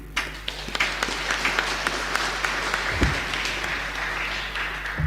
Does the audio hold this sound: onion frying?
no